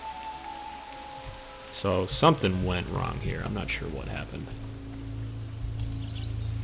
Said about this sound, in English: You can hear the rain a lot better